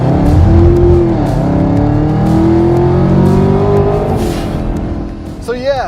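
A 2020 Mustang Shelby GT500 with a 5.2-liter supercharged V8 roars loudly and close, its rising engine note climbing through the gears with a sharp squeal at the end.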